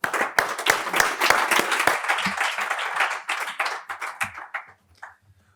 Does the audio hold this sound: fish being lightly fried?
no